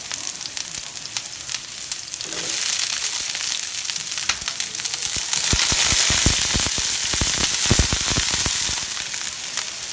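Onions and mushrooms sizzle loudly in oil on a hibachi griddle, a dense, close crackle that swells partway through with sharp popping bursts, and no one speaks.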